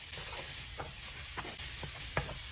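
Chopped onion dropped into a bacon pan over medium-low heat, a steady sizzle and hiss close by, broken by scattered stirring scrapes and light clicks.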